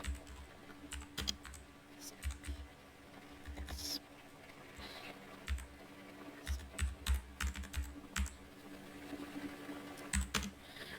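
Computer keyboard typing in quick irregular bursts of clicks, pausing between runs as search keywords are entered, close and fairly quiet, with no voice.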